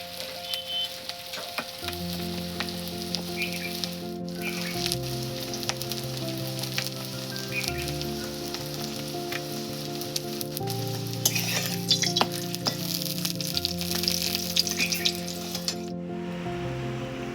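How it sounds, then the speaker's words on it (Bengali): Paratha frying in oil in a home kitchen, a steady crackling sizzle that runs throughout, with a low hum under it and a few clinks along the way. "তেল দিয়ে নিচ্ছি এবার পরোটাটা ভাজার জন্য।"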